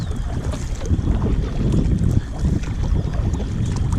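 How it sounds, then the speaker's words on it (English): Bell Magic solo canoe propelled with a kayak paddle, giving a steady rush of water and wind noise with soft paddle strokes close to the microphone and no talking. "you can get moving so fast in this thing with a kayak paddle"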